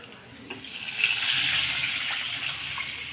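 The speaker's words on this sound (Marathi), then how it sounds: "ज्या वाटीने आपण वरई घेतली होती त्याच वाटीने आपण पाणी ह्याच्यात घेणार आहे" Water is poured from a small bowl into a cooking pan as a steady splashing pour, close and continuous, with a faint sizzle underneath.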